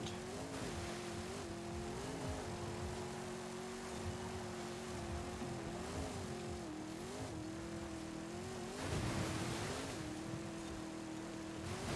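An off-road race car in Forza Horizon 5, a 450hp spec-series build, drones along with a steady engine tone. Pitch rises and dips as the throttle shifts, with a louder surge near the end.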